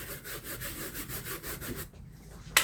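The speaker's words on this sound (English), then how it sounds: "Get you a brush, any kind of brush, kind of stiff bristle, right? Agitate that." A stiff-bristle brush scrubs car interior upholstery in rapid back-and-forth strokes for about two seconds, close and fairly loud, then stops. A brief knock follows.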